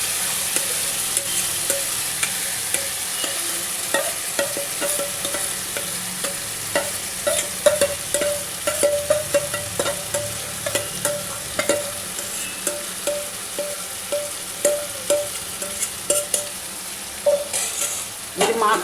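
Mutton being stir-fried with fried onions in a pan, a steady sizzle running throughout with frequent scraping and clinking spatula strokes that grow denser and more rhythmic toward the end, close and fairly loud, no talk.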